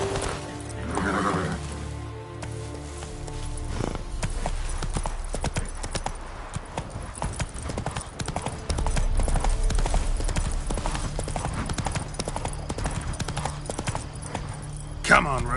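Hooves of Roach, the horse in The Witcher 3, pound in a fast gallop across the whole stretch, with a neigh near the start. Game music and voices sit over the hoofbeats.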